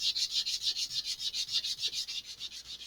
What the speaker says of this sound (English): having a new piece of sandpaper and having the slightly coarser grit, this is going a lot faster